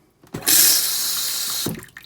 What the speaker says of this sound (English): got full flow of water again.